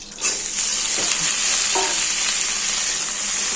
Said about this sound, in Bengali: কাঁচা লঙ্কাগুলো ফাটিয়ে দিয়েছি তবুও ফাটবে কাঁচা লঙ্কা তেলে দিলেই